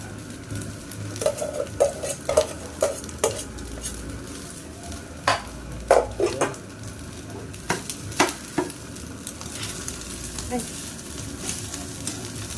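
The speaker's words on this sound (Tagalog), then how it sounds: "Ayan, haluin muna natin." Hotdogs cooking in a pot with leftover rice, stirred with a utensil: a soft simmering hiss under a string of sharp metallic clinks and scrapes against the pot, with a voice talking faintly at times.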